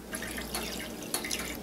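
Water splashing and dripping while rice is rinsed in a kitchen, a steady close wash of trickling, sloshing liquid with small sharp drips throughout.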